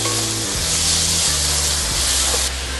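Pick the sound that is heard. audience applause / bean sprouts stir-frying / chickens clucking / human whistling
bean sprouts stir-frying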